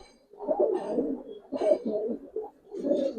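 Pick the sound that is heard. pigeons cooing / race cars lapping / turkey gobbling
pigeons cooing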